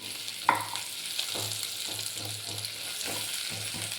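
Onion pieces frying in ghee, a steady hiss of sizzling with a sharp clink of a spoon early on and repeated low scraping stirs through the pan.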